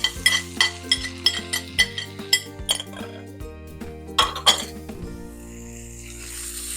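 King prawns and Thai green curry paste stirred in a metal pan, with a run of sharp utensil clinks and scrapes against the pan over a low steady tone, fading to a soft sizzle at the end.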